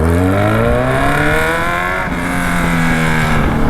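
A Ford Mustang-style car exhaust roars loud and close, revving steadily with rising and falling engine harmonics throughout, no voices over it.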